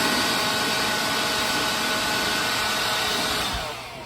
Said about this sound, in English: So let's blow the air first with the blower.